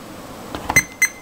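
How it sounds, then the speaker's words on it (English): A Fluke 87 digital multimeter in diode test mode gives two short, high electronic beeps close by, in a quiet room. "Should beep. Beeps."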